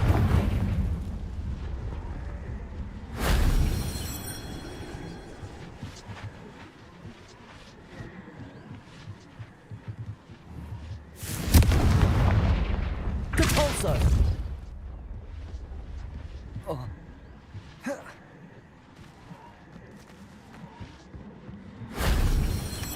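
Confringo fire spell blasts in the Hogwarts Legacy video game, several sharp loud bursts scattered across the stretch, each a booming whoosh over a rumbling background with occasional voices.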